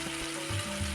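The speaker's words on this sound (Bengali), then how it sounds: "রসুনগুলো ভাজা হয়ে গেছে," Garlic and chopped green chillies fry in a pan with a steady, close sizzle, and a few soft low thumps come from stirring.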